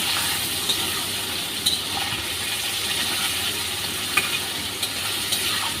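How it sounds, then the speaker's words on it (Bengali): Shing fish frying with spices in a pan gives a steady, even sizzle, heard close and moderately loud, with a few faint clicks of stirring over the top and no voices. "মা এখন মশলাগুলোর সাথে ভালো করে কষিয়ে নিচ্ছে"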